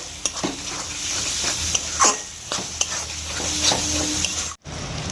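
Chopped tomato and salt stirred into chicken biryani in a pan, giving a soft continuous sizzle with intermittent spoon scrapes and clacks against the pan, close up, with no one speaking.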